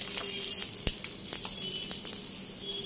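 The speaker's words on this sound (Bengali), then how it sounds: "এবার একটা ডিমের পোস্ট করে নিচ্ছি।" An egg fries in hot oil in a pan, giving a steady close sizzle throughout with small crackles and pops and a faint stirring scrape.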